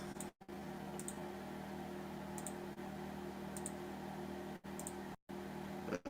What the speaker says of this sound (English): this is why I can't be clicking on this damn button